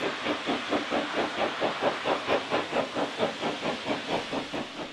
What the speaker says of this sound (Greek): Το γερμανικό τρένο, το οποίο έχει ξεκινήσει από την Φλόρινα, φτάνει στον σιδηροδρομικό σταθμό της Βέμπης.